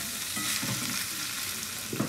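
Bean sprouts frying in a pan with dried fish for Surinamese tjapar, a steady close sizzle with soft stirring scrapes running throughout.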